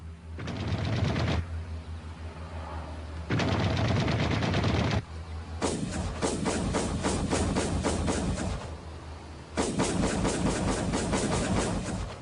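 A MiG-15 jet's guns fire during controlled weapons tests, heard as several loud, rapid bursts of repeated shots separated by short pauses, with no talking.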